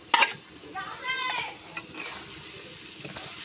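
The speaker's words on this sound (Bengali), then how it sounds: "মশলাটা সুন্দর করে কষে নিচ্ছি, তেল ছাড়ে গেছে দেখুন" Spice paste with cumin sizzles and spits in hot oil while it is stirred in a pan. A sharp crackle opens the frying, a short voice is heard early on, and a soft, steady hiss carries on after.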